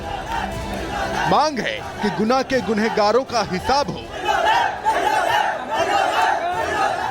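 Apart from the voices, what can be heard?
angry protest crowd shouting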